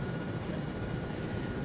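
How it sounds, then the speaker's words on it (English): A helicopter in the video game ArmA 3 produces a steady, dense engine-and-rotor roar that fills the whole short stretch at a constant loud level, with no talking. "So when you're extracting in the helicopter,"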